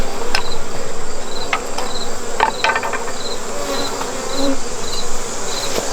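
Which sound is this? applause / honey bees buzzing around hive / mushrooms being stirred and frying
honey bees buzzing around hive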